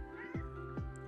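A house cat meows twice, close and fairly loud, each call a short falling cry over a steady background hum from a Pokémon LeafGreen game playing nearby.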